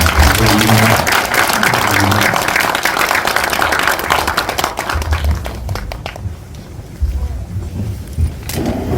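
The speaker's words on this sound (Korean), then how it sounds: "큰 박수로 마치도록 하겠습니다" Audience applause at the close of a Korean film talk, dense clapping that fades out over several seconds, with a few scattered claps afterward.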